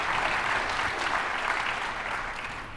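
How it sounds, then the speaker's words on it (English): Audience at a keynote panel claps steadily throughout, a dense wash of many hands that eases off slightly toward the end, with no talking over it. "Please clap now if for your agency, your carrier, or your MGA, it's been a difficult operating environment."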